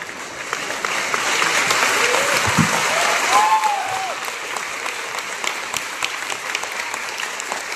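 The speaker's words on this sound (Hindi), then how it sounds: "ऐसी बजाओ, ताली ऐसी बजाओ, मान लो ये आपके जीवन का आखिरी ताली है।" Audience clapping at a company's 18th anniversary program, a dense burst of applause that swells and then thins into scattered claps, with a voice speaking over it.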